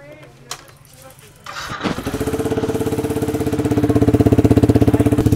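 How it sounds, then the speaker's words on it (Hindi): A Yamaha MT15 motorcycle fitted with a modified exhaust starts up after some handling noise, then settles into a loud, close, steady idle with an even pulsing thump. "अब मैं आपको एग्जॉस्ट की पूरी साउंड सुना देता हूँ कि एग्जॉस्ट की साउंड एक्चुअल क्या है"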